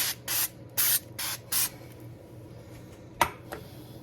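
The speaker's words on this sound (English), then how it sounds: "you want to spray olive oil on the top." Four short hissing bursts from a can of olive oil spray in quick succession, followed by a couple of light clicks and clatters.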